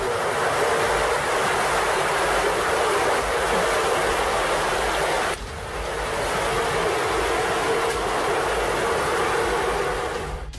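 Sewage water rushing loudly through an underground tunnel, a dense continuous roar that drops off abruptly for a moment midway before surging back up, with no voices.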